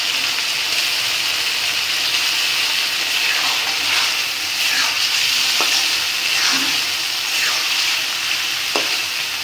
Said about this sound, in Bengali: সরিষার সাথে সকল মশলার সাথে মাছগুলা একটু কষায় তারপরে ঝোল দেব